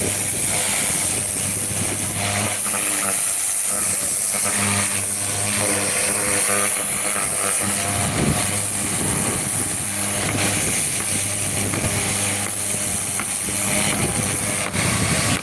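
A high-pressure water washer sprays continuously during a water service, with a steady broadband hiss over a droning motor that stays loud and even from start to finish. No one talks.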